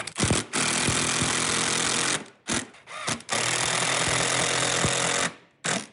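A power driver sinks 50 mm screws into a mitre shooting board, with two long, loud whirring runs broken by short stops and a brief burst at the end, heard close with no talk.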